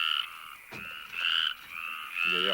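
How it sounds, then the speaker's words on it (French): Several frogs croak in loud, repeated trilling bursts with short gaps between them, close by and with no other sound. "J'entends rien avec ces saloperies de grenouilles"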